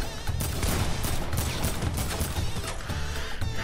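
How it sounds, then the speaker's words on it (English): Gunfire rattles through a Fortnite match as a steady stream of loud, close shots and clattering impacts, overlapping in quick succession for several seconds. "I'm getting shot at!"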